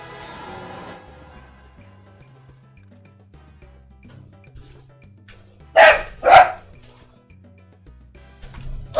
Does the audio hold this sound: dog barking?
yes